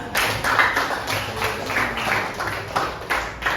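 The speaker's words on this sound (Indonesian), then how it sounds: "Luar biasa ya, beri tepuk tangan" A school classroom of seventh-grade students claps together in a steady, dense patter of many hands that keeps up for several seconds without pause.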